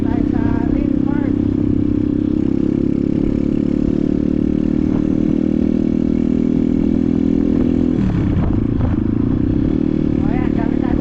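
Motorcycle riding along with a steady, loud engine drone and a brief dip in the middle, with voices talking over it at times.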